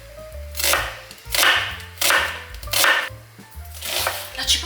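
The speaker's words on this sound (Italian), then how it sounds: "Inizio tagliando la cipolla." A knife chops an onion on a cutting board in a home kitchen with a steady rhythm of crisp, close strikes, about six in quick succession, and no talking.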